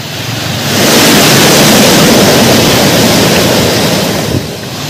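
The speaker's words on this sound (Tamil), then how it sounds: "மேட்டூர் அருகே கூட்டுக் குடிநீர் திட்ட குழாயில் உடைப்பு." Water from a burst joint drinking-water scheme pipeline near Mettur gushes in a loud, steady broadband rush that swells after the first second and holds without a break, with no voices.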